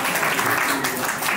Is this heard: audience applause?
yes